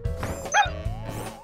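Cartoon dog barking in short yips and woofs with a brief howl-like whine in the middle, loud and close, several quick bursts in a row.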